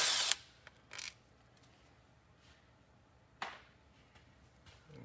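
A tool works loose an 8mm bolt holding the filter on a Ford 10R80 ten-speed transmission, giving a few brief separate clicks and scrapes with quiet gaps between them.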